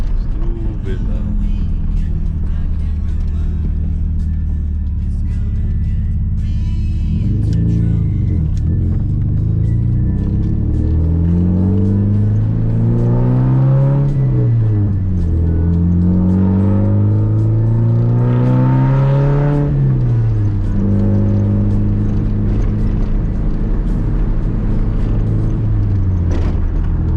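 A Nissan 240SX fitted with a Nismo test pipe and short shifter drives along, its loud droning exhaust idling low, then repeatedly revving up and easing off through several gear changes, recorded from the cabin.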